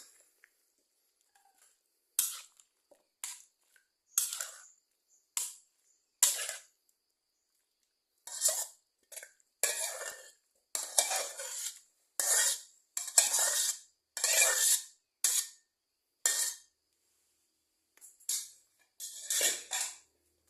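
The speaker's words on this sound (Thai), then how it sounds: "เดี๋ยวเรามาตักใส่ชามกันเลยนะครับ" Stir-fried wood ear mushrooms with baby corn and minced pork are scooped from a pan into a bowl, giving a series of short, sharp metallic scrapes and clinks separated by silent gaps.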